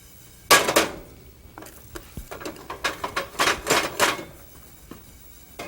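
Whole spices dry roasting in a heavy pan over a full flame, a series of sharp rattling bursts and metallic clatters as they are tossed and stirred, close and fairly loud, with no talk.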